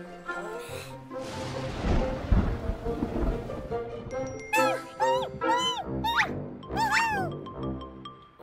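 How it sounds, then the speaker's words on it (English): Cartoon rain and thunder: a broad rumbling wash of storm noise swells early, then eases under bright, squeaky cartoon voices and chirpy sounds that take over the second half. "It's raining."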